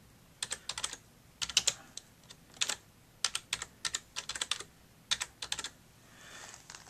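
Rapid bursts of typing on a computer keyboard, close and crisp, arrive in short irregular clusters of clacking keys with brief pauses between them and no talk.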